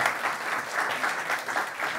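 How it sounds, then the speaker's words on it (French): Married couples in a church congregation applaud steadily at a Sunday worship service, a dense, even wash of clapping that fills the whole moment without any speech. "C'est les mariés qui applaudissent."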